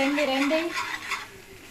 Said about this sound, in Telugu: 5 మినిట్స్ వేసిన తర్వాత 5 మినిట్స్ తిప్పితే సరిపోతుంది.